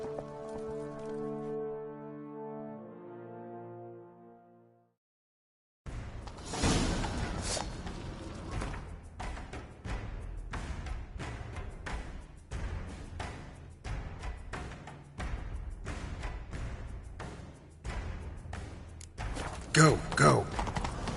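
A horse gallops in The Witcher 3, rapid hoof strikes pounding in a quick rhythm after a brief musical intro and a pause, with voices talking over the hoofbeats.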